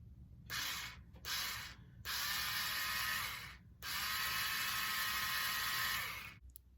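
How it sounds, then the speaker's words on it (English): A screw is worked by hand into an Amazon Basics expandable metal hanging storage closet, giving close, gritty ratcheting and grinding bursts that stop and start several times before one long stretch. "And just lightly screw it in, just so I can get a grip on it."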